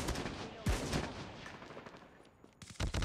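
Gunfire in the mobile shooter Call of Duty: Mobile, with sharp shot bursts over dense game noise and a couple of louder reports near the end.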